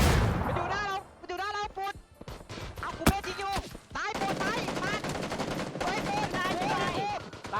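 Gunfire in the battle-royale game PUBG rattles out in rapid automatic bursts and single cracks, while players shout and talk excitedly over the shots.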